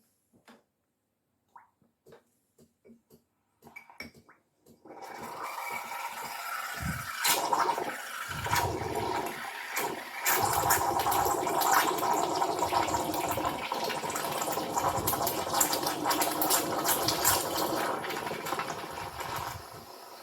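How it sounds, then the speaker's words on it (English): An espresso machine steam wand froths milk with its nozzle just above the surface. After a few faint clicks in near silence, it breaks into a loud, continuous hissing roar with gurgling texture that lasts to the end. "You want to make sure that the nozzle is slightly above the milk so the foam could build"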